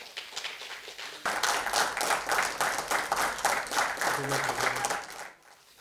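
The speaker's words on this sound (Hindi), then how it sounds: "आपको तालियां।" An audience at a Mumbai event bursts into loud, dense applause that lasts several seconds, with many hands clapping together, a voice briefly heard over it near the end before it cuts off.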